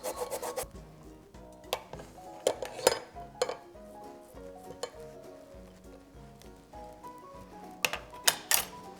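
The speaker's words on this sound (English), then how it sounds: "So we'll just be zesting away." An orange peel is scraped against a zester for cheesecake zest, making repeated soft rasping strokes with occasional light metallic clinks, close and fairly quiet, with no talk.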